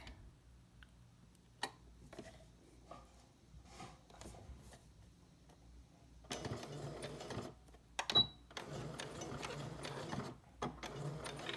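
A sewing machine stitching a fabric key wrist strap, quiet ticking mechanical clatter at first, then a denser continuous run of stitching in the second half, close and without talk.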